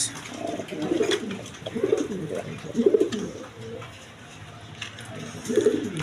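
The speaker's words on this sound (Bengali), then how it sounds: "একদম বিগ সাইজের কবুতর দেখেন" Satin pigeons in a cage coo nearby in soft, low, repeated bubbling calls, about one each second with short gaps, over faint background noise.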